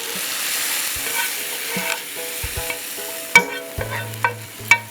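A hot bagar tempering is poured into beef kala bhuna, a hiss fading from the start, followed by spoon knocks, scrapes and ringing clinks against the pot as it is stirred.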